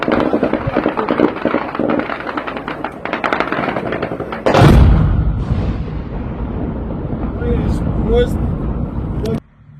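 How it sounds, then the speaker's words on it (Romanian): A distant explosion at a Ukrainian port on the Danube, heard from the Romanian side across the river: a sudden loud blast midway through, rolling on as a long rumble after a stretch of wind and handling noise, with excited voices nearby. "Acolo tot la fel așa a bubuit."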